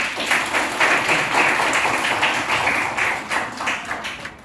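An audience at an Indian lecture program claps together to welcome the main speaker, a dense rhythmic patter of many hands close by, steady and fairly loud throughout.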